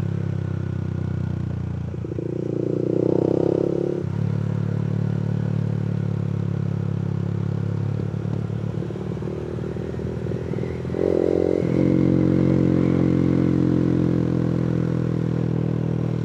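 A Honda Winner X motorcycle with a VMAX V131 setup and no silencer, its engine loud and close, idling with a harsh rumble and rising into two strong revs, with no talk.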